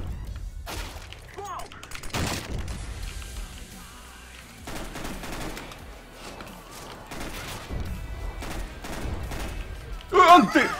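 Gunfire in the video game CS:GO, a chaotic exchange of shots and impacts mixed with game sounds, a sharp loud burst near the end.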